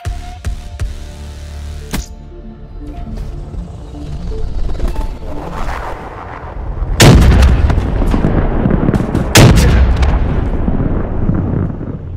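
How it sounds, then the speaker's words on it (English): Mobile artillery firing in Black Ops 3 team deathmatch: heavy booming blasts with two especially loud, sharp detonations near the end, over a constant rumbling bed of gunfire and explosions. "Mobile artillery getting the win."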